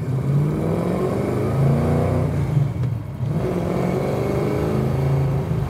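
A 1967 Ford Mustang Fastback's engine revs close up while driving, pitch rising and falling in smooth sweeps, dipping briefly midway before climbing again into a steady drone.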